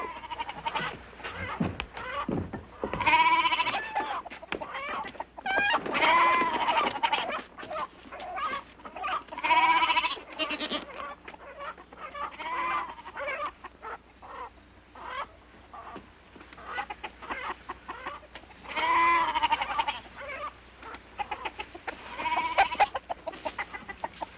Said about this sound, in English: Now, what set off those goats and chickens?